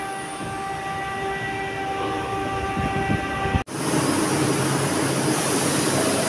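A Milan metro train runs loud and steady with tonal whine lines, then an abrupt brief dropout and a broader rushing roar continues, with no talk.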